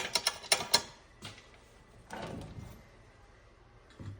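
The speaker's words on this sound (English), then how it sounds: "Tighten that into the nut." Hand-threading a bolt into a nut during an 8HP70 transmission swap on an LS-swapped C4 Corvette: a quick run of faint, close metallic clicks, then soft scraping and handling noises.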